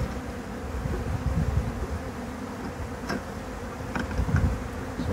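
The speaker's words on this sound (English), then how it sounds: "Now the bees on their frames from the nuc are going to go right in the middle here." Honeybees from a nuc colony buzz steadily and close by, a dense continuous drone of many wings with no voices over it.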